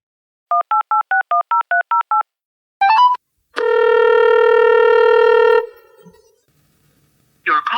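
A telephone dialing to place a call: a quick run of touch-tone beeps, a short burst of tones, then a loud steady ringback-style tone of a couple of seconds, followed by a brief bit of voice at the end.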